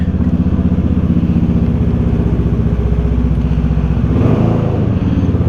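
A Yamaha X-Max 300cc scooter engine runs loud and close, holding a steady throbbing idle with a brief rev swelling near the end.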